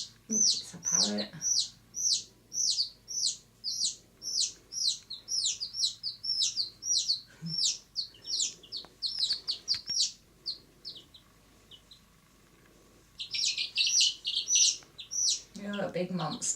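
Chickens give a rapid run of high, repeated chirps at close range, fading out briefly before a denser burst returns, with a short voice near the end.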